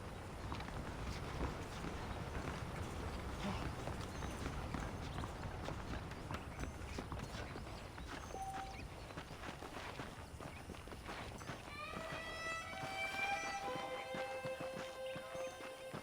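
Horse hooves clip-clop at a steady walking rhythm in the western game Red Dead Redemption, close and continuous, with faint wind behind and brief tonal game sounds near the end.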